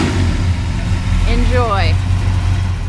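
Idling 350 V8 in a 1972 Chevrolet Cheyenne K20 pickup, a steady loud low rumble running throughout, with a brief voice speaking over it midway.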